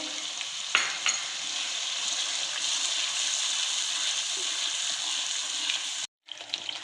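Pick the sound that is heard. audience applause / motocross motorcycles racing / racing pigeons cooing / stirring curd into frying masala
stirring curd into frying masala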